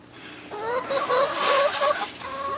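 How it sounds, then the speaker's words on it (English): Hens cluck and murmur inside a backyard homestead chicken pen, several close birds giving overlapping rising calls and short clucks over a dusty, noisy background. "We're going to go into the chicken pen."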